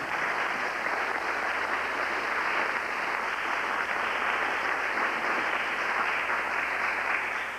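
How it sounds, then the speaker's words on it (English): Audience applause for a poet at a spoken-word program, a steady, dense wash of clapping hands that holds at an even, full level throughout with no voices over it. "let's give a round of applause for our sister, Abiola Valentine."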